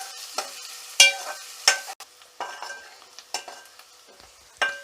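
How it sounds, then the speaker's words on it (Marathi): Onion fries in oil for a tempering, heard as a soft crackle broken by intermittent scraping stirs and clinks of a utensil against the pan, each stroke loud and close, with quieter gaps between. "हा जो कांदा आहे तो आपल्याला मस्तपैकी तेलामध्ये फ्राय करून घ्यायचा आहे"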